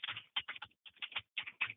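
Computer keyboard typing during a transportation committee meeting, a close, quick run of clustered keystrokes in several bursts with brief pauses between them.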